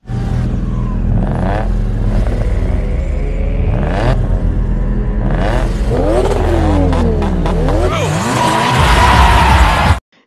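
A car drifts and skids through a tight space as a drift king weaves it around, with tire squeal, revving engine and rumble filling the scene, loud and continuous, with voices mixed in.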